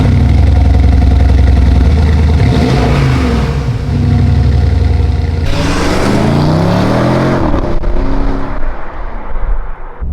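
A Porsche Cayenne Turbo S exhaust roars and revs loudly up and down nearby, deep burbling swells rising and falling, then settling toward the end.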